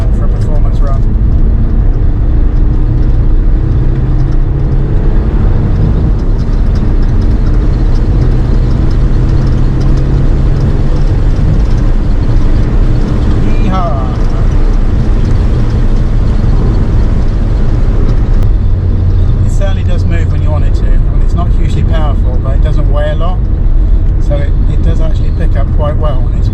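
A Peugeot 206 drives hard on a warm-up performance run, a steady engine drone and road roar filling the whole stretch at close range, with a person talking over it throughout.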